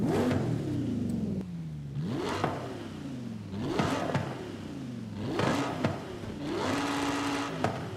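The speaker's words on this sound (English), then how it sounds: "This sounds like a real V10 now." A V10 car engine in the video game Forza Horizon 5 revs repeatedly, pitch sweeping up and down in several bursts, a high-performance growl holding steady between each climb.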